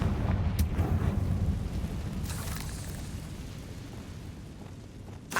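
A Confringo spell explodes in the Hogwarts Legacy video game, a sustained rumbling boom that fills the clip at high level and slowly fades, with a brief crack near the start and another burst at the very end.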